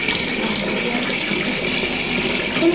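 Tap water runs steadily and loudly while a fish tank is being cleaned, a continuous close gush with no talk.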